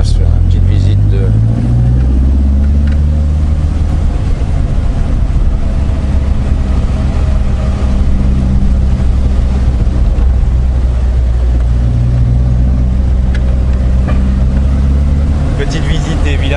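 An Austin Healey Sprite Mk1 Frogeye driving through Provençal villages, its engine droning loudly and continuously with pitch rising and falling as it changes speed, heard from inside the car.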